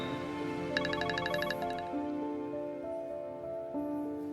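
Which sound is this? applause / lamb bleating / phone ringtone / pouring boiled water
phone ringtone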